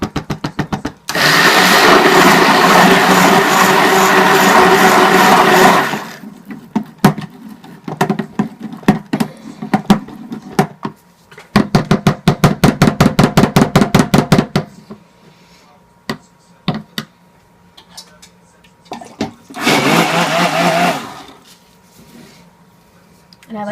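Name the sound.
stick blender mixing cocoa into soap batter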